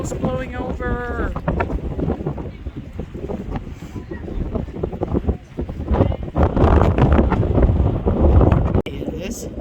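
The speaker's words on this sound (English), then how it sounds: "Oh, it's windy." Strong wind on a pier buffets a microphone outdoors, roaring and gusting beneath people talking, with the rumble swelling louder toward the end.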